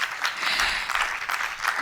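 An audience at a church program applauds, with dense clapping rising in short swells, close and lively over a couple of seconds without clear speech.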